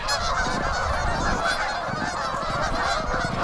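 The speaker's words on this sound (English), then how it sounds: "It looks like there's some sick geese too." A flock of geese on a shoreline honking loudly and continuously, many overlapping calls close by with no pause.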